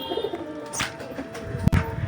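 Pigeons cooing after being fed, a couple of short low coos nearby over faint background noise, with a sharp click and brief rustle near the end.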